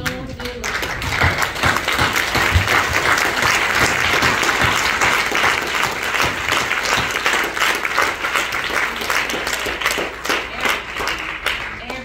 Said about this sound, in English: If you would please stand with me and give her a round of applause